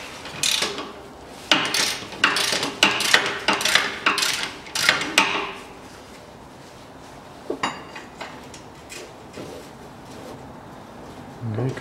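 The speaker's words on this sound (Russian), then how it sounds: "Откручиваю слимлоки." Ratchet wrench clicking in quick bursts while loosening nuts on the suspension of a 1998 Toyota Mark II JZX101 during rear upper control arm replacement, close and loud, with a quieter stretch and metal clinks later.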